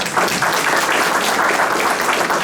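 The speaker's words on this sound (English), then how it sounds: "Please give him a round of applause" Steady applause from a seated audience at a civic coalition brunch, honoring a congressman; dense, even clapping that holds at full strength for the whole stretch with no voices over it.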